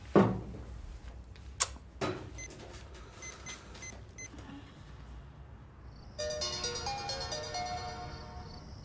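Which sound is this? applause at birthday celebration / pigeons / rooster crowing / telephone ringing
telephone ringing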